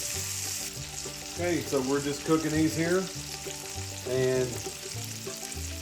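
Hamburger steak patties fry in a pan with a steady crackling sizzle, while a voice talks over it at moderate level.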